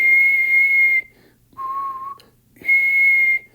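A steady whistled tone held for about a second, a brief pause, then a lower sustained whistle, another pause, and the higher whistle returns, the notes an octave apart, clear and close with no talking.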